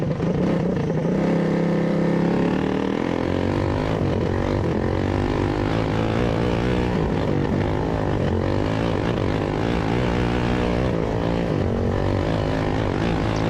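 The engine of a race car with a Weaver Performance motor, suffering carburetor problems as the green flag drops at Big B Speedway, drones loud and close, its pitch wavering and stumbling unevenly throughout.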